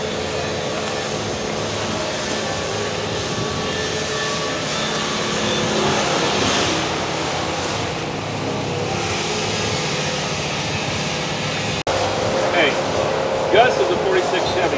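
A hot rod engine idles loud and steady after a push-button start, a continuous droning rumble close by with a sharp click near the end and voices talking over it.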